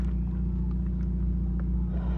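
A Volkswagen TDI diesel car engine warms up at idle, a steady low rumbling drone with a regular throb, close and continuous.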